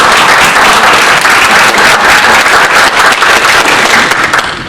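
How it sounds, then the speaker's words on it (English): Loud, dense audience applause at an evening school board candidates' forum for the volunteer questioners, a continuous roar of many clapping hands that holds steady and tapers slightly at the end. "I'd like to have a round of applause for our volunteer questioners"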